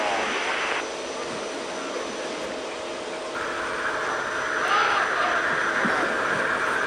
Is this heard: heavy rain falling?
no